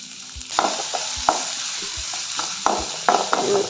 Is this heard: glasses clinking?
no